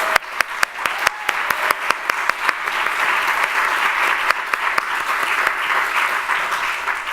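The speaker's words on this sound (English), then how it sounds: "I'd like everyone to give them a round of applause." Audience applause at a TPA Talks 2018 event, a steady wash of many hands clapping with a few loud, sharp claps standing out near the front, sustained for several seconds with no talking.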